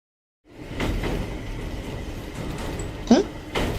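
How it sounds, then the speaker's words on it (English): A train in motion at Saihate Station, its steady rumbling roll starting after a short silence and continuing evenly, with a brief sharp squeak or click near the end. "I think we are in a train already?"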